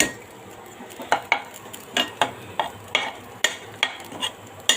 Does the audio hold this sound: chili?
yes